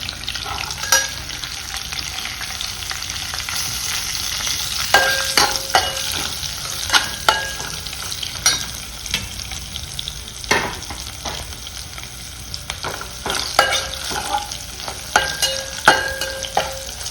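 Cumin and asafoetida frying in hot oil with mustard seeds for a sweet potato sour soup, a constant sizzle broken by sharp spatula scrapes and stirring clatter against the pan, close and fairly loud, with no talking.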